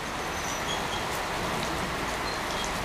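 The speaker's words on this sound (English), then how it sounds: "Second test for the day, and it is pouring rain." Heavy rain pours steadily onto an arena roof, heard from under cover as a dense, even hiss that stays constant throughout with no voices.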